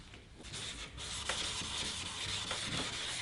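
Hand sanding the rail of a wooden surfboard with sandpaper, a steady close scratchy rubbing with repeated strokes, no talking.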